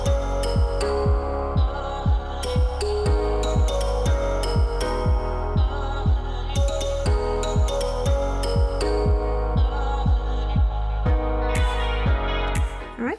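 A Brother NV50S sewing machine stitches straps onto a mini duffle bag, a steady, fast, rhythmic run of needle thumps over a constant motor hum, close and alone with no talking.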